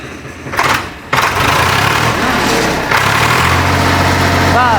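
A 2001-model tractor engine runs at a steady mid pitch throughout, with a brief louder burst near the start and a faint whine toward the end.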